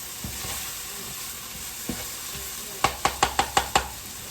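Garlic sizzling gently in a pan, a soft steady hiss broken by a few utensil knocks and then a quick run of six sharp taps near the end, close and without talk.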